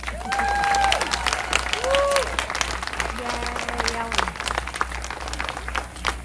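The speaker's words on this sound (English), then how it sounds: "And you can clap for her." A crowd applauds steadily with dense clapping at a Relay For Life luminaria ceremony, with a few voices and cheers mixed in throughout.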